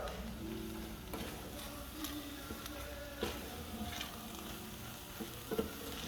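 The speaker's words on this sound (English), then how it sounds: "And stir, stir, stir until it starts to thicken up" Risotto with speck and artichokes being stirred in a pan, a steady soft sizzle with scraping spoon strokes and occasional louder clinks against the pan, close and continuous.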